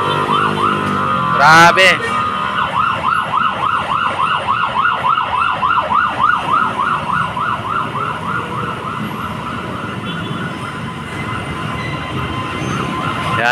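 Ambulance and fire truck sirens pass near a fire at Pier Parola, a loud, rapidly repeating yelp that sweeps up and down steadily for several seconds over traffic rumble, with a brief voice near the start.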